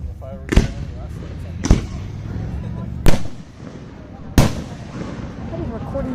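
Fireworks bursting at a show in Kansas, four sharp booms spaced a second or so apart, echoing over a background of crowd murmur and voices.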